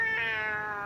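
A person imitates a cat's meow with a single short, clear nasal mew delivered close up.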